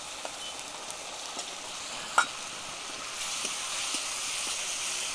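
Fried potatoes are being sautéed in a fish kofta curry with chilli powder and chopped coriander, giving a faint, steady sizzle broken by a few soft clicks of stirring.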